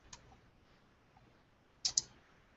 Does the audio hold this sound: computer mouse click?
yes